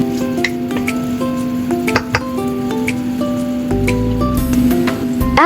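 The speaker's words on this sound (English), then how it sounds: "Add cooking oil and 1 tablespoon of vegetarian Thai shrimp paste to the pan and stir-fry until fragrant." A steady sizzle of vegetarian Thai shrimp paste frying in hot cooking oil, with scattered clinks and scraping of a utensil against a pan, continuous and close.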